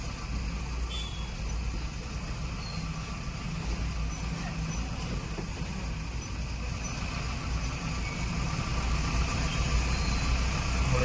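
Steady road traffic at a congested bend, with engines idling and rumbling low and continuous throughout, a dense mid-level wash of vehicle noise with no clear passes or horns.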